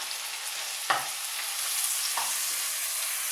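Veal chop searing in a pan after being flipped, an even hissing sizzle with two distinct knocks of the meat or utensil against the pan, close and without talk.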